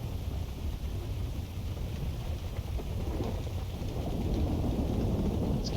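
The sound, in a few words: thunder and rain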